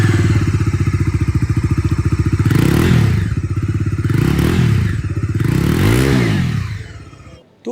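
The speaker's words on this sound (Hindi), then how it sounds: "तो एग्जॉस्ट साउंड इसकी भी आप लोग यहाँ पर सुन लीजिए।" A 250cc motorcycle with a dual-barrel exhaust idles with a steady throbbing thump, then is blipped through several quick revs, loud and close before it cuts off.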